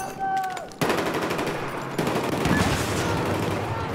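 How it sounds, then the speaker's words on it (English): Enemy machine gun fire in Battlefield 4 rattles in rapid, sustained bursts, loud and close, running almost continuously through the clip under some game voice chatter. "To east of your location, there is an enemy machine gun."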